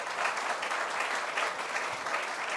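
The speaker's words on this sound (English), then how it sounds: "Let's give him a round of applause." Crowd applause at an outdoor groundbreaking ceremony for the Midtown Bus Terminal deckover, a steady, dense roar of many hands clapping that holds evenly throughout without talk over it.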